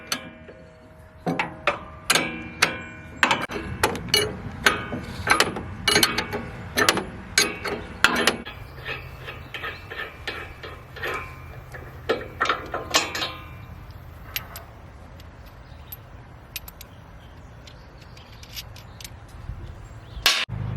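A wrench repeatedly ratchets to loosen the split knife on a Japa 405 firewood processor, giving a fast run of sharp metallic clicks that slows and fades to scattered clicks near the end.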